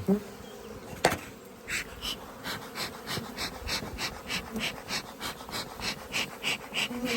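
Honey bees buzzing steadily at an opened hive in an apiary, a close, pulsing drone of many insects with one sharp knock early on and no talking.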